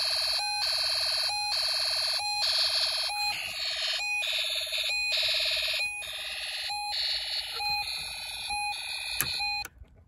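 A Snap Circuits Extreme SC-750 kit speaker pulses electronic alarm beeps on and off in a steady rhythm, alternating with bursts of tonal electronic melody, loud and close with no talking.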